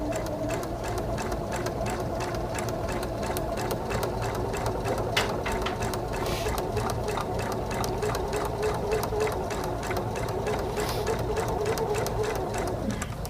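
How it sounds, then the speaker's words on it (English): A sewing machine runs at a steady, even pace while stitching a paper-pieced star quilt block, its rapid needle clatter continuous and close for the whole stretch with no talking. "And take your time sewing. This is not a race. You don't have to sew super, super fast."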